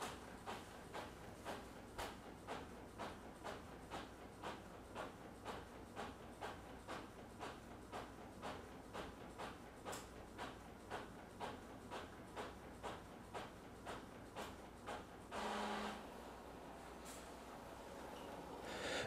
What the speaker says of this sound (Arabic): ونشاهد الطابعة وهي تطبع.